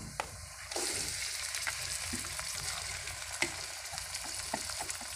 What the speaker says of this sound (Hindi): अब मैं इसमें ये जो गोश्त मैंने मसाले लगा कर रखा था ये इसमें डाल दूँ।